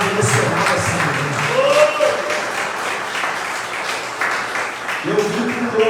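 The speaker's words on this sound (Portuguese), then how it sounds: "Você pode aplaudir a Jesus?" Church congregation applauding during a worship service, a steady wash of clapping that runs through the whole stretch with a preacher's voice speaking over it at moments.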